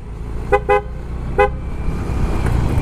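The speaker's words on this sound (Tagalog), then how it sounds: "Oh, loud horn 'yon." Three short, sharp beeps from an aftermarket loud motorcycle horn, loud and close, over a steady engine rumble.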